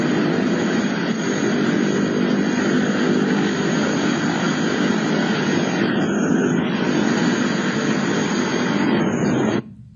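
A helicopter landing near an ambulance and paramedics, heard as a loud, continuous rotor and engine drone that holds steady for several seconds before cutting off abruptly at the end.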